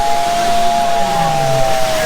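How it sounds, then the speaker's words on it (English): A toy train's steam whistle at a toy train museum sounds one long steady sustained tone over a hissy background, loud and close, with a lower hum faintly sliding beneath it. "Steam whistle."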